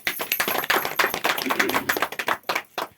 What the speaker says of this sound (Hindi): तो एक बार जोरदार तालियां सर के लिए।